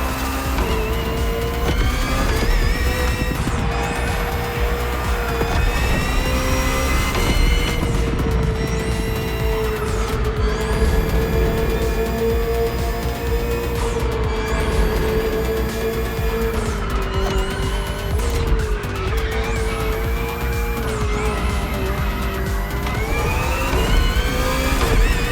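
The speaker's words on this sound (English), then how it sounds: "The BMW M Hybrid V8. What a beast." A 2023 BMW M Hybrid V8 endurance race car in The Crew Motorfest, engine roaring loudly and continuously with repeated rising and falling revs through gear changes, plus occasional tire squeal.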